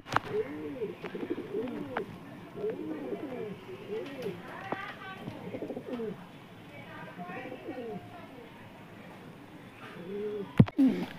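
Pigeons, Star Kalanka and Madrasi breeds kept as a paired green male and female, coo in soft repeated rounded calls close by, with voices talking over them.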